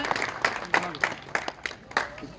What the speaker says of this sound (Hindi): इनके लिए जबरदस्त तालियां की स्टेज पर तशरीफ लाएं।